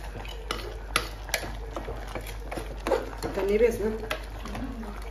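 A small spoon stirs mutton in a pressure cooker, giving light clicks and taps that are scattered through the clip beneath a person speaking.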